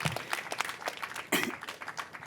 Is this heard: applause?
yes